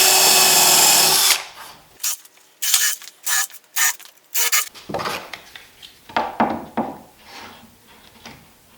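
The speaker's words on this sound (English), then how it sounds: "Alright, so I'm just going to countersink a few screw holes here." A drill countersinks screw holes in wood on a torsion box assembly table build, giving a series of short, loud whirring bursts with gaps between them, close and alone with no talking.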